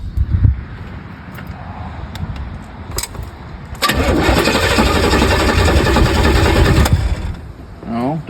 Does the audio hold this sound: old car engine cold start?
yes